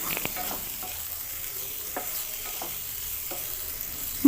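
Chopped ginger frying in a pan, with a steady low sizzle under scattered clinks and scrapes of stirring, close and moderately quiet, no talk.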